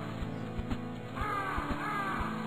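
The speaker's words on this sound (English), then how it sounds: "I think this plane is hitting a lot of crows. Sounds that way." Crows cawing in the Metal Gear Solid video game, a run of hoarse caws rising and falling over a steady low engine-like drone with regular soft thumps, fairly close and alone without talk.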